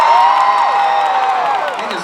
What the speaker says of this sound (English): Round of applause for Thor.